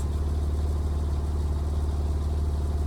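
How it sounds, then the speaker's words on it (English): Steady, close idle of a 3.6-liter flat-six in a Porsche 911 (997) Turbo Cabriolet, a deep, even throb that holds level throughout with no voices. "even for a 6-cylinder engine, this still makes a great sound"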